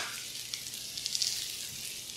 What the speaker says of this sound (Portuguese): Para também dar uma fritadinha aqui no pimentão